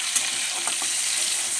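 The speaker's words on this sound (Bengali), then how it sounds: "টমেটোটা ছেড়ে দিলাম।" Potatoes, onion and freshly added tomato fry in a pan, giving a steady close sizzle with a few brief stirring scrapes and no voices.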